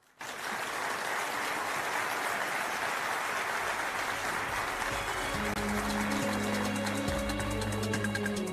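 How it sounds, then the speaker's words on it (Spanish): Dense, sustained applause from a large audience welcoming Chile's Interior Minister Carolina Tohá at the Erede 2023 event, starting abruptly and holding steady and loud, with a low tonal music bed joining partway through. "un fuerte aplauso"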